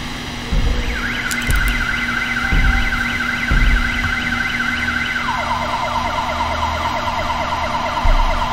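Siren Head monster in a video game letting out a loud wailing siren, its rapid warbling cycles shifting lower partway through, with heavy thuds underneath.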